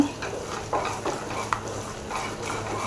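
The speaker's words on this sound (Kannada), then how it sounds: "ಈ ಥರ ಆಯಿಲ್ ಜಸ್ಟ್ ಮಿಕ್ಸ್ ಮಾಡ್ಕೊಂಡ್ಬಿಡೋಣ ಜಸ್ಟ್ ಈ ಥರ ಮಿಕ್ಸ್ ಮಾಡ್ಕೊಳ್ಳೋಣ" Paneer keema masala stirred in hot oil in a pan, soft scraping strokes and a low sizzle repeating steadily in a short, close stretch.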